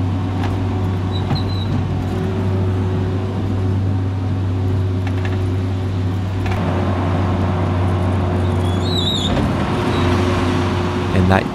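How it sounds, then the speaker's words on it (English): A skid steer carves a drainage swale in a backyard, its engine droning and humming steadily with low tones throughout and occasional higher whines and clanks. "That is what you can see me here creating with the skid steer"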